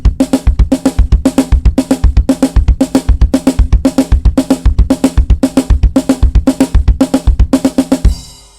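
A drum kit plays a steady, fast pattern with the hand strokes leading and the kick following, repeated evenly for about eight seconds at close range before stopping abruptly.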